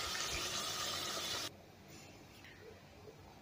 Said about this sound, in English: So now it's time for us to go ahead and add some water